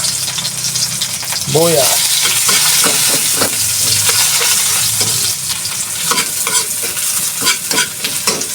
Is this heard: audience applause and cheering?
no